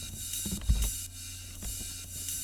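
A 909 drum machine ride cymbal rings with a bright, sustained high shimmer, struck a few times in an even pattern under low thumps.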